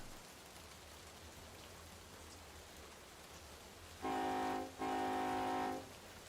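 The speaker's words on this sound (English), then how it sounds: "Yeah, it looks like it could just rain the whole time." Steady rain in the Run 8 Train Simulator v3 game, a constant hiss of falling water near Bakersfield, followed near the end by two loud bursts of a train horn, with no talking.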